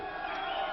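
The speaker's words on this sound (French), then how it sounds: "Le public, lui, continue à manifester, à siffler ce qu'il a applaudi, à applaudir ce qu'il a sifflé" Wrestling-match audience at a La Barba versus Laroche bout, a dense, steady crowd din of whistling, shouting and clapping, loud and continuous with no break.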